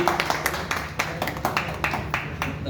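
Applause for a hotel housekeeping team at a 20th anniversary celebration, a moderate ragged patter of hand claps from a gathered crowd, fairly steady and not very loud.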